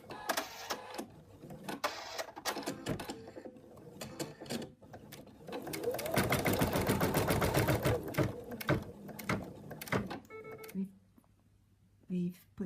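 An embroidery machine sews the placement line for a stuffed monkey's right arm, a fast mechanical needle rhythm that swells loudest midway, with a voice talking over it.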